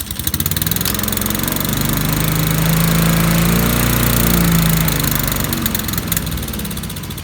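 A Honda HRR 216 walk-behind lawnmower engine running close by after a throttle-linkage repair attempt, a loud continuous drone that swells and rises in pitch mid-clip before settling back.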